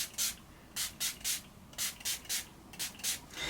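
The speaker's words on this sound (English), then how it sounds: "So I'm just going to use the LA Girl setting spray." LA Girl setting spray spritzed in about a dozen quick, close bursts of fine hissing mist, some in rapid pairs and triplets, each short and crisp against a quiet room.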